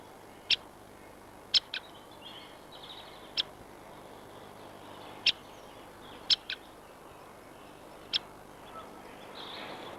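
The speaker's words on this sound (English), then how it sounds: "when hidden from view they can often be located by their abrupt calls" A great spotted woodpecker gives about eight sharp, abrupt single call notes at irregular intervals, each very brief and clear against a faint, steady outdoor background.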